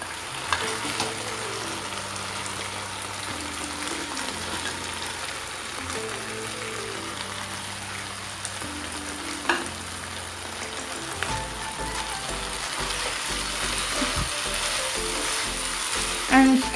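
Fried baby corn in thick Schezwan sauce sizzling in a pan, a steady close frying hiss with occasional pops, heard under background music.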